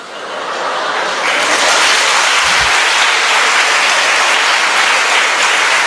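An audience at a motivational speech breaks into loud, sustained applause, the clapping building quickly and holding steady as a dense wash of sound.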